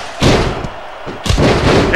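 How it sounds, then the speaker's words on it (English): A heavy big boot kick lands in a wrestling match, one loud booming thud followed by a second impact a second later, close and strong over crowd noise. "Smartly hit by Silent Bob there. Oh, big boot"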